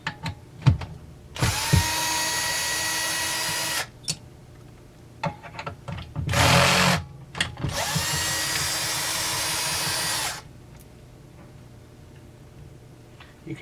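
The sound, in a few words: power tool undoing bolts on Husqvarna 372xp chainsaw plate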